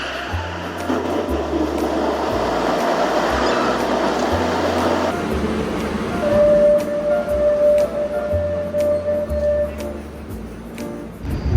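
A subway train in Barcelona rumbles steadily, with a low mechanical drone and a high whine from the motors, then the hum continues as it slows.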